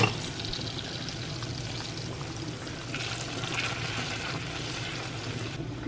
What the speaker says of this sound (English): I'm gonna stir this up now